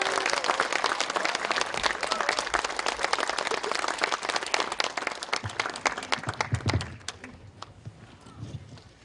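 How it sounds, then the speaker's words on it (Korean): Audience applause welcoming the leader of the Justice Party onto the stage at a lecture event, dense sustained clapping for several seconds that thins into scattered claps toward the end. "박수로 맞아주십시오."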